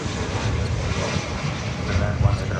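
A passenger jet arriving from Doha roars steadily on approach at DFW Airport, a broad loud rumble with wind buffeting the microphone, while a person talks over it.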